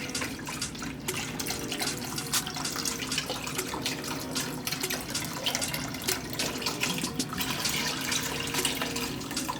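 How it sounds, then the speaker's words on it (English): Chicken broth pours in a continuous, steady splashing stream into a cooking pot for risotto, close and fairly even throughout with no talking. "pour the chicken broth in this pot so it can start boiling"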